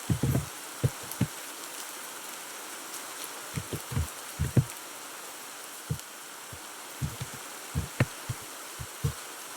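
Steady hiss of rain falling in the video game Minecraft, with irregular soft low thumps scattered throughout; even and continuous, no voices.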